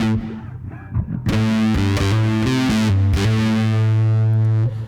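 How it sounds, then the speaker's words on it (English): Bass guitar played through a Keeley effects pedal with a touch of reverb, a run of sustained, distorted and chorused notes changing pitch in steps, loud and close with no voices. "so just a little bit of reverb"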